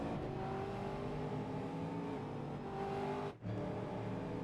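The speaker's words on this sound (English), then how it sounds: "So we can hear these V8s" Stock Car Brasil V8 race cars howl continuously at high revs on Oran Park in iRacing, several engines layered in a steady loud drone with a brief dip near the end and no talking.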